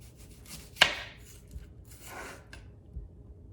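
A knife chops the top off a large white onion on a cutting board, one sharp close cut followed by a few softer scraping and tapping sounds, with no talking.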